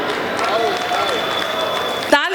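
Sustained audience applause at an outdoor Hindi poetry recital fills the scene, a broad, even wash of crowd clapping that cuts off abruptly near the end, where a voice briefly breaks in.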